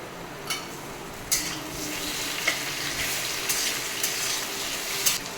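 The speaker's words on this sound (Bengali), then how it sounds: "পেঁয়াজটা ভাজা হয়ে গেছে, এবার দেব একটা টমেটো কুচি," Chopped onion and tomato frying in a pan for muri ghonto, a steady sizzle broken by several sharp spatula stirs and scrapes, close up and with no talk.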